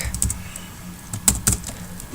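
Keys tapped on a computer keyboard in a short, uneven burst of clicks, a few sharper strikes clustered together near the middle, close and clear with no talking.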